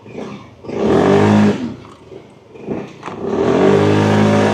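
A 50cc motorbike engine revs hard in two long surges with a brief dip between, loud and close, with no talking.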